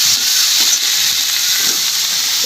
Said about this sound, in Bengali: মশলাটা কষাচ্ছি, আপনারা দেখতে পাচ্ছেন।